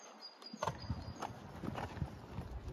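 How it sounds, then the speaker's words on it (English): A horse's hooves clip-clop at a steady walking rhythm during a medium-level dressage riding test, faint and slightly distant against a quiet background with a brief high tone near the start. "Luciana Westaway, riding Cool Spring."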